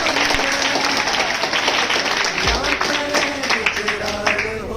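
Audience applauding at a National Youth Day event in a school hall, a dense, steady wash of many hands clapping throughout with chatter and voices mixed in underneath.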